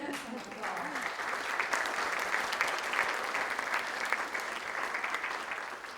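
An audience at a leadership lecture breaks into sustained applause, a dense wash of clapping that swells after a brief voice at the start and carries on steadily at moderate level for several seconds.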